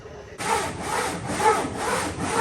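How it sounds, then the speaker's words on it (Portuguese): Steady rhythmic rasping of sandpaper worked back and forth over a boat hull in a workshop shed, close and loud with repeated strokes and no talking. "depois disso ele vai continuar a lixar o casco"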